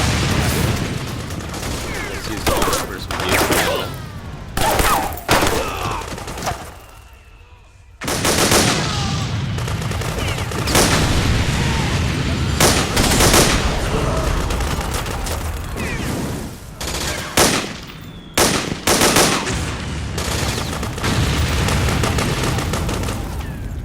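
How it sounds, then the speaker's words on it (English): Rapid P90 submachine gun fire in Metal Gear Solid 4 gameplay, loud sustained bursts of automatic shots with explosions and battlefield clatter, broken by a brief lull before firing resumes. "Time to switch to P90."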